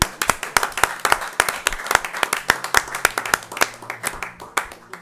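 A church congregation claps and applauds in praise of God during a French-language service, with a steady run of sharp, loud hand claps over a dense burst of applause and no talk.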